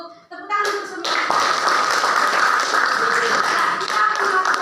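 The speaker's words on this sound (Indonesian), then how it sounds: "Tepuk tangan untuk semua" A classroom group claps together after a presentation in a fisheries teacher-training session, with brisk, close hand claps starting up after a brief moment and continuing steadily.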